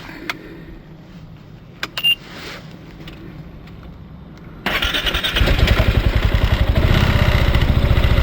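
A vehicle engine is started after a few faint clicks and thumps, catching abruptly and settling into a loud, steady, rhythmic running chug close by.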